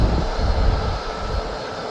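A TUI passenger aircraft landing at Birmingham airport gives a loud, continuous roar of jet engines, broad and rumbling and heard from fairly close for the whole short stretch, with no talk.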